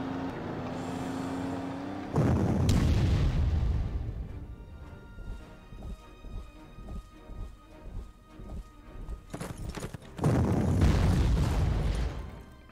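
Artillery fire in the wartime strategy game Panzer Corps: heavy, booming blasts burst loudly at the start and again near the end, with a quieter run of rhythmic thuds and impacts in between.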